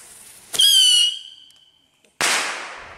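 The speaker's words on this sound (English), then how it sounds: "we're gonna let some fireworks off, or firecrackers, or whatever the fuck they are" Firecrackers set off outdoors at night for Canada Day, with one sharp bang followed by a shrill whistling squeal that fades, then a second loud crack with a noisy tail.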